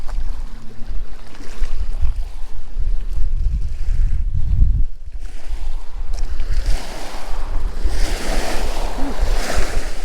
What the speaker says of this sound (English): Waiting for the waves to go by.